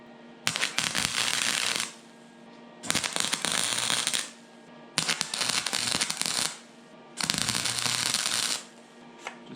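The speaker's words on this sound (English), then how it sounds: "That is a successful tack weld." Tack welding a rust repair patch gives four separate crackling, hissing bursts, each lasting over a second, with short quiet gaps and a low hum between them.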